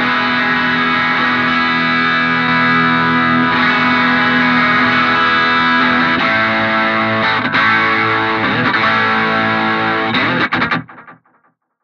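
Distorted electric guitar lead tone from BIAS FX 2, boosted by a graphic EQ set as a level-only full-range booster just before the amp, rings out loud and sustained with chorus-like shimmer for about ten seconds, then cuts off.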